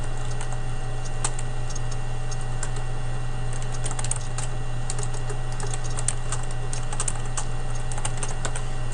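Steady typing on a computer keyboard, a continuous patter of light, close clicks over a constant low electrical hum, with no voices.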